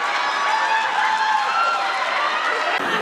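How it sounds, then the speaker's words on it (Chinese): Rally crowd in South Carolina applauds and cheers in a dense, steady roar of clapping and shouts that holds loud throughout before cutting off abruptly near the end. "引发台下掌声喝彩声不断"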